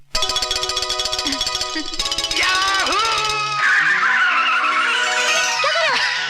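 A car swerves with a long, loud tire skid that whines and bends in pitch over several seconds over a steady engine, with no voices.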